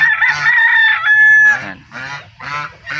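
A fighting rooster on a gamecock farm crows loudly and close by, one long drawn-out call followed by shorter clucking and squawking bursts from nearby fowl.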